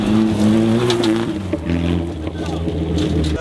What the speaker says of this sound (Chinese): 这一次换了新车， 是这个汉达的 SI